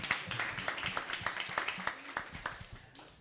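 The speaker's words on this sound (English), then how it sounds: "that deserves a clap" An audience at a podcasting and content creation workshop claps in a quick, steady rhythm, a small group close by, with a voice briefly audible under the clapping.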